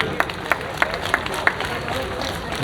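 Audience applause at a political rally in Nangloi, Kirari, Delhi, heard as a run of distinct, evenly spaced claps in a steady rhythm over a low background murmur, fairly faint overall.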